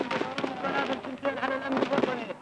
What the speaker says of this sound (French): mais une nouvelle rafale